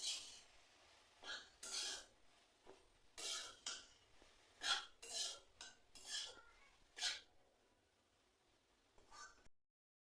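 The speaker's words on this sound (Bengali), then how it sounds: "কালারটা চেঞ্জ হওয়া অবধি আমরা এটাকে ভালো করে ভেজে নেব" Chicken momo filling is stirred and fried in a pan, with a series of separate metallic scrapes and clinks of a utensil against the pan, fairly quiet and close, with pauses between strokes.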